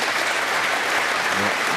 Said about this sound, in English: Fine ball acknowledged by the crowd here.